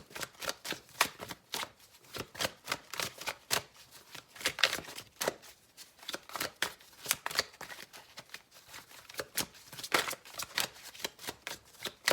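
Tarot cards shuffled by hand in a steady run of crisp riffling flicks and soft slaps, close and fairly quiet, with no talking.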